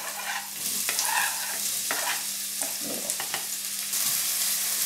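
Onions braising in a frying pan for a pasta bake, giving a steady close sizzle with intermittent scraping and stirring clicks from a utensil, no talk.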